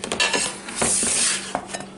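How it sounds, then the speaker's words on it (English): Vented Gotham Steel cookware lids clink and clatter as they are handled, a few bright metallic knocks and scrapes close by over about two seconds, with no talking. "And we still have a couple of lids here."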